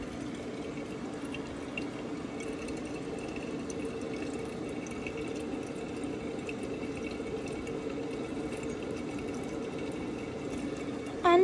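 Samsung washing machine filling with water, a steady, moderate hiss and trickle of running water that continues evenly throughout, with no voices.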